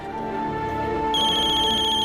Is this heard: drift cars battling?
no